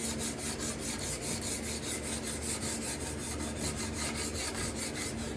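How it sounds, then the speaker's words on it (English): Card scraper hand scraping a wooden gate leg table along the grain, with a close, even rasping scrape repeated in quick regular strokes about four per second, steady and loud with no talking. "Just showing you how you hand scrape a table."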